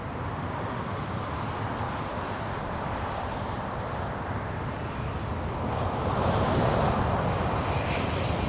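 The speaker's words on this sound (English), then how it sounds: "United 1897 flying in from SFO," Steady jet engine roar of United Airlines flight 1897 from San Francisco arriving at LAX, a broad continuous rumble with wind buffeting that swells slightly louder toward the end.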